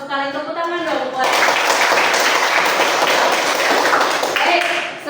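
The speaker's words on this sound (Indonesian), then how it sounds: "Tepuk tangan dong buat." Students in a classroom breaking into applause, a burst of close, dense clapping that follows a voice and then gives way to speech again.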